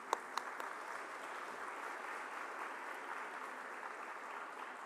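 Steady applause from a conference audience at the official opening of a world congress on Syriac studies, a dense even wash of clapping with a few sharper claps close by at the start.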